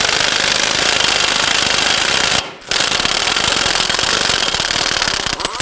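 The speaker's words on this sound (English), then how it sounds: "use a 32mm socket, loosen and remove the axle nut" A pneumatic impact wrench with a 32mm socket hammers loose the axle nut on a 2008-2011 Ford Focus front CV axle, a loud continuous rattling burst with one brief pause near the middle, then resuming.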